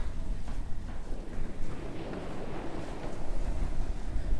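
Wind buffeting the microphone on the beach at Myrtle Beach, gusty low rumbling roar over a bed of surf, loud and uneven with surges throughout.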